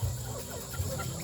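Chickens on a poultry farm cluck in low, close bursts, a couple of soft calls against a quiet background.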